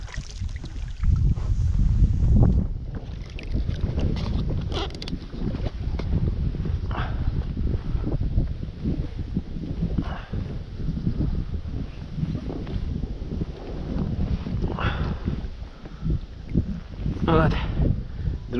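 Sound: wind

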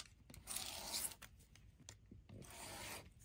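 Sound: cutting out paper for a photo frame

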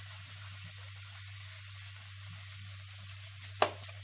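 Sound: masala sizzling while roasting in a kadhai

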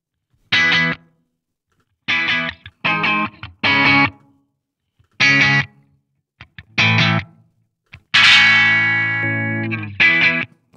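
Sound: electric guitar through Positive Grid BIAS Desktop amp cabinet simulations

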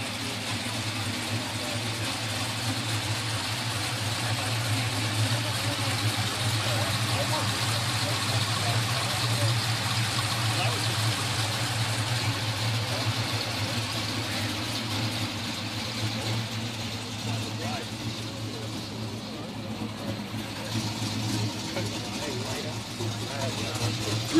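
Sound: 2004 Honda S2000 engine idling with cold air intake

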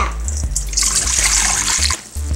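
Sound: warm water poured into a bowl

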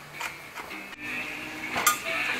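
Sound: knife chopping celery into fine strips

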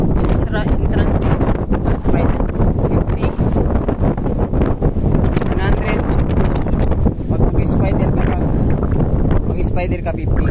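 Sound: strong wind

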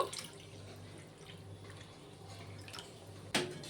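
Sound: water poured into frying onions for hilsa fish curry

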